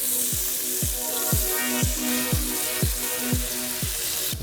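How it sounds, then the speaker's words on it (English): Husked tomatoes fry in a pan over a lowered flame, giving a continuous sizzle with a regular pulsing, about two beats per second, throughout. "just going to add our husked tomatoes to the one pan"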